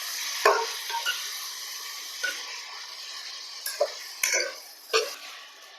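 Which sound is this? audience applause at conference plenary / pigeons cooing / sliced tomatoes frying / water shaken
sliced tomatoes frying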